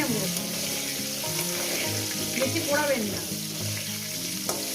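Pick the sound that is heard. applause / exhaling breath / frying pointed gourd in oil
frying pointed gourd in oil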